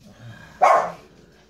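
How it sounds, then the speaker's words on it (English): A single sharp yap from a small Pomeranian dog, loud and close, rising out of a quiet room and fading within half a second. "that's my Pomeranian dog right there, Chewbacca."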